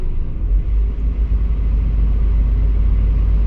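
A vehicle driving over a road under construction, heard as a steady, loud low rumble of engine and tyres that holds throughout without pause.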